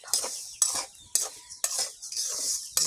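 Dry sand being stirred and scraped in a pan while dry-roasting for puffed rice: five sharp, gritty rasping strokes at a steady rhythm, close and fairly loud, with short pauses between each pass.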